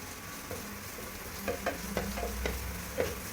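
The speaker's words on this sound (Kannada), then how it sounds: "ಓಕೆ, ಇವಾಗ ಫ್ರೈ ಮಾಡ್ಕೊಳ್ಳೋಣ" Frying in a pan for fish curry gives a soft, close sizzle, with a cluster of quick stirring scrapes and taps toward the end and no speech.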